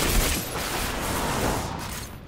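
Sustained gunfire in Destiny 2 pours into a tough servitor enemy, a dense unbroken rattle of rapid shots at steady loudness through the whole stretch, tapering slightly at the end.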